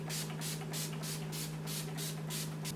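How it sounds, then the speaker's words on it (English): A close setting spray mist hisses in quick, even pumps, about eight short bursts in a row over a low steady hum. "I'm going to use the Urban Decay All Night Setting Spray"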